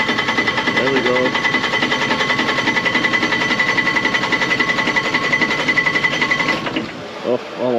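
A cold diesel engine in a Bobcat loader cranks steadily in winter, a rapid mechanical chatter that runs unbroken for several seconds before cutting off abruptly. A voice is heard briefly near the start.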